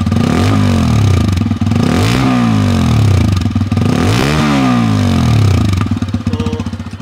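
A TVS Apache 160 2V motorcycle engine with side-mounted exhaust runs loud and close, with a throaty idle broken by several sharp revs that rise and fall, ending in a steady lumpy idle.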